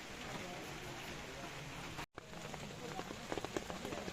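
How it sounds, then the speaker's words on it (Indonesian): Steady, dense rain patters on surfaces at Pos 3 camp on Mount Cikuray, Tapak Gerot route, around five o'clock, continuous and close with a brief dropout midway and a few sharper drop hits afterward. "Ini kondisi saat jam 5 hujan."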